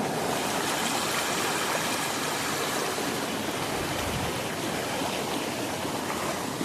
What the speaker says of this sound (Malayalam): പാട്ടൊക്കെ പാടി ഒഴുകി വരുന്ന നമ്മുടെ തോട് കണ്ടോ